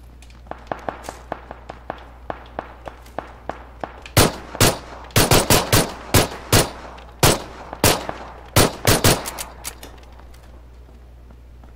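Gunfire in the video game PUBG: a run of light, sparse shots gives way to a burst of louder, rapid close-range shots in quick clusters. A steady low hum sits underneath.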